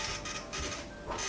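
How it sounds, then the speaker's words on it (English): A running 3D printer, picked up through a live phone feed, gives a continuous mechanical whir with shifting motor tones and small tonal glides, steady and moderately near. "I now have a live feed of my printer"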